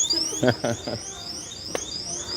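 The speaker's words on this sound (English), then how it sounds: "Oh, jeez. The alarm went off." An anti-theft store alarm at a Lowe's sounds after an item is picked up, sending out a repeating series of high, rising electronic chirps while someone talks briefly over it.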